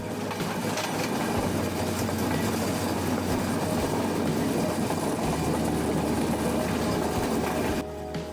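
The Padma Express, running from Rajshahi to Dhaka, rumbles steadily along the rails with a constant dense roar and low engine hum. The sound stays loud and even, with no speech.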